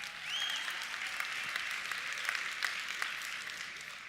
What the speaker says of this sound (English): That's easy to clap now.